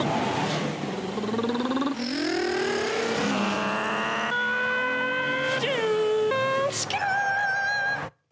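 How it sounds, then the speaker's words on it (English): A car engine revs hard through rising sweeps, climbing in pitch and dropping back several times as if shifting gears, then screams to a final peak before cutting off abruptly; loud, close and with no talking. "If there's one thing rev heads love, it's revs."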